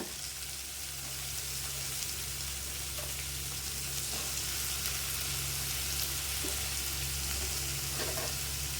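Small cut pumpkin pieces sauté in a pan, a steady close sizzle with soft stirring clicks over a low constant hum, no talking.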